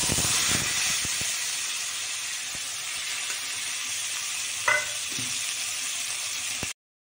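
Ground masala paste sizzles and fries in a wide, heavy-bottomed pan, a steady loud hiss with a few soft clicks and one brief stir midway, cutting off abruptly at the end.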